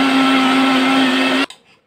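Electric mixer grinder blending coriander leaves into a paste, a loud steady motor whine with a strong hum that stops abruptly near the end, leaving a brief fading rattle.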